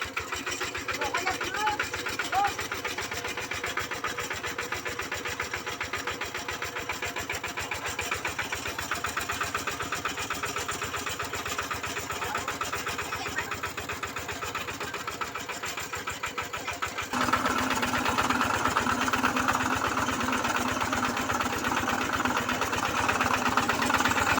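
An engine-driven water pump runs steadily for the whole stretch on a farm field, with a rapid mechanical chug and a louder, rougher note near the end, while people talk over it.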